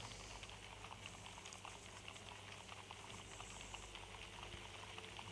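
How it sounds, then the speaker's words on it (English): Rushing water from an indoor waterfall in the Minecraft Story Mode video game, a steady, dense, bubbling wash that stays even throughout with no talking. "Еще водопад."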